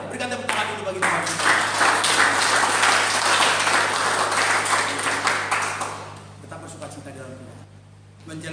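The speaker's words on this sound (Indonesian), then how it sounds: "Berikan tepuk tangan dulu bagi Tuhan" A church congregation claps together for several seconds, with a steady hum beneath, then the applause fades into quieter sounds and brief speech.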